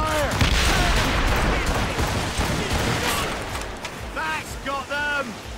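Cannon fire in a naval battle in Assassin's Creed Rogue: a loud barrage of booming shots and crackling blasts at the start, fading into rumble, with shouted commands over the gunfire.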